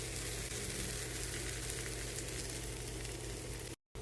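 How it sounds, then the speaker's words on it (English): Steady, dense sizzling of bread grilling in a thin layer of hot bacon fat in a pan, for a halal BLT, continuous and close, cutting off abruptly near the end. "now you want to grill your bread in the bacon fat. And notice there's barely any in there"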